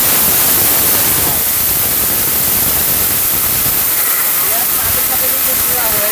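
A high-power steel robot blender grinds something to powder, a loud, steady broadband roar with hiss running the whole time, close and continuous.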